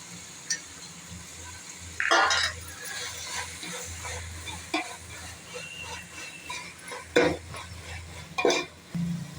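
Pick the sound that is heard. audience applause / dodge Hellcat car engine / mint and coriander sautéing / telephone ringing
mint and coriander sautéing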